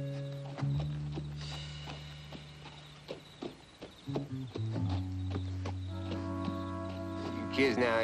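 Horses being unhitched from a wagon in a 1970 Disney film, hooves clopping intermittently amid harness clinks, with a musical score and voices talking over it.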